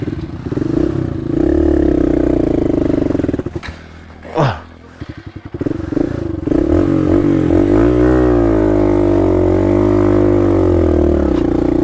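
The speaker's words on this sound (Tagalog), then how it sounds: "Ang lakas ng makina mo talaga." A loud motorcycle engine roars close by on a mountain ride in La Union, its steady drone dipping for a moment as the rider shifts, then swelling back up and revving with a wavering pitch.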